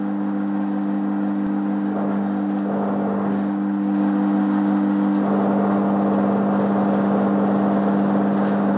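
A 12V 90A car alternator, rigged as a generator and driven faster, gives a steady loud electrical hum with a strong tonal drone and a mechanical whir that grows slightly louder partway through.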